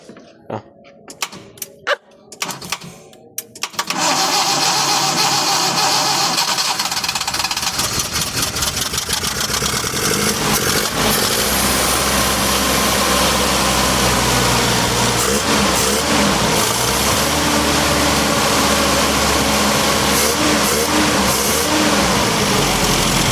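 A long-parked van with an overheating engine cranks with a few sputtering attempts, then catches and runs loud and rough, idling with a steady mechanical roar close by.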